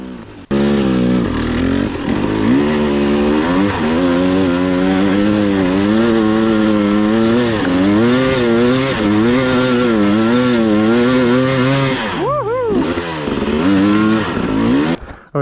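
A 2022 Husqvarna TE 300i two-stroke dirt bike revs hard up a hill climb, its loud, close engine note rising and falling continuously with throttle blips and a brief dip near the end.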